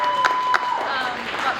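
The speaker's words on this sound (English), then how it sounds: "let's give them another round of applause" Audience at a filmmaker's Q&A screening applauds the actors, a short stretch of moderate clapping mixed with room noise and faint voices.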